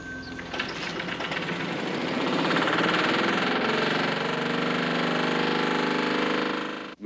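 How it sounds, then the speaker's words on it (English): An engine running on hydride fuel made from ammonia hums and rattles steadily at close range, holding an even, buzzing note with no voices over it until it cuts off abruptly at the end. "It is the fuel that powers this engine."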